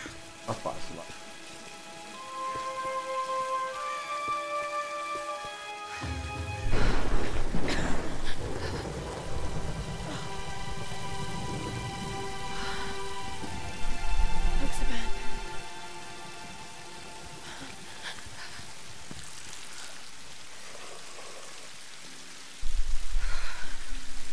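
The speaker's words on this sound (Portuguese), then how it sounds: "Tá chovendo, tá frio." Rain in Tomb Raider (2013) falls as a soft, steady hiss beneath game music and tones, with a few louder bursts of heavier downpour or rumble rising and fading.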